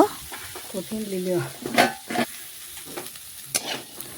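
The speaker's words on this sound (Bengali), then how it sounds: "এখন নাড়াচাড়া করে নিচ্ছে দেখুন উচ্ছেগুলো কিন্তু ভাজা হয়ে এসছে" Bitter gourd pieces are stirred while frying in a pan, with a soft sizzle under irregular scraping and clattering strokes of a spatula, and a brief voice-like tonal sound early on.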